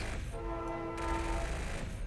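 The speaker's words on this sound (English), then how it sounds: "Yes, that's a train." A train horn blows once in a video game, a steady tonal blast lasting about a second over a low rumbling background.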